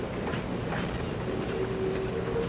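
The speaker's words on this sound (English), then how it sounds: "Another train with its load of logs comes to get a drink at the water tower." A steam logging train hauling logs rumbles at a water tower, giving a steady low mechanical drone with a faint tonal whine, alone without voices.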